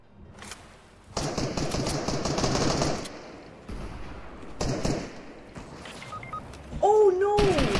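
Automatic gunfire in a multiplayer shooter video game, bursts of rapid shots rattling close and loud for a couple of seconds at a time, broken by short pauses, with a player shouting between and over the firing.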